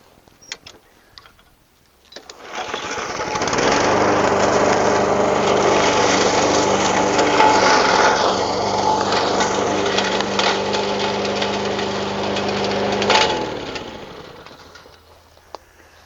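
A mower cuts thistles in a food plot, its engine starting up after a couple of seconds and then running loudly and steadily close by for about eleven seconds before winding down, with no talking.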